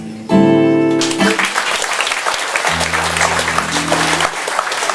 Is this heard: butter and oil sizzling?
no